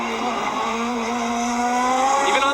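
A 1999 CART race car slides through a corner, engine holding a loud sustained note that climbs steadily while the tires squeal underneath, close and continuous with no break.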